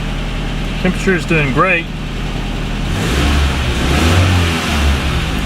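A 1980 Datsun 200SX engine fitted with a catalytic converter sits at a steady idle and then rises into a low, rumbling rev, with someone talking over the first part.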